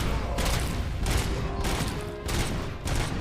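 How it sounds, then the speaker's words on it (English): Gunfire from the RoboCop: Rogue City video game comes in dense, loud, rapid bursts of shots with several short pauses between volleys, and no voices are heard. "With all the sound of the bullets ripping through flesh and people screaming and the splatter sounds of heads exploding into many pieces never gets old."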